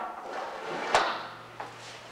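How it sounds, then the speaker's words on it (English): A wooden desk drawer pushed shut with a single muffled thump, followed by a softer knock, close and alone in a quiet room. "lock it, and put it in my bottom desk drawer."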